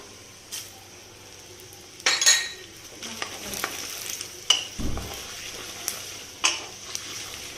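Urad dal frying in a pan for an upma, with soft continuous sizzling under several scrapes and clinks of a spoon stirring against the metal, close up and fairly quiet with no talking.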